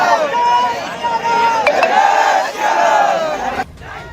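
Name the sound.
crowd shouting slogans in street protest, Khargone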